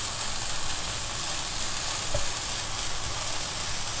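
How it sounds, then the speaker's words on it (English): Sesame seeds sputter and crackle in hot oil in a pan for a healthy paneer-stuffed capsicum dish, a steady close sizzle with fine popping throughout and one brief louder pop. "The sesame seeds are spluttering."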